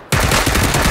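Rapid automatic gunfire from the PUBG video game, a dense, loud burst of repeated shots starting abruptly and continuing steadily for about a second.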